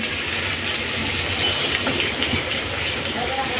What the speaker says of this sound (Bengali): দিয়ে দিচ্ছি আমি সামান্য করে পানি